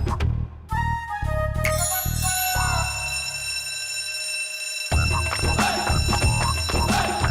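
A bright electronic school bell chime signals lunch break, ringing out in a rising sequence of tones, then holds a sustained ringing note before voices and activity resume underneath.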